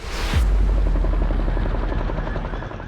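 A flying drone gives a loud, steady, even buzz that builds in with a short whoosh and holds without a break.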